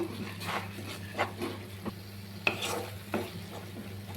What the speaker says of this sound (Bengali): এর মধ্যে আমি অন্য কোনো মশলা দিব না, শুধু নুনটা দিব। এবার ভালো করে ভেজে নিব।